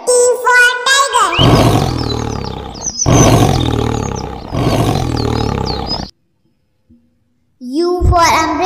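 A tiger roars in three long, loud, rumbling bursts, with a short bright call before them and a fourth roar starting after a brief silence.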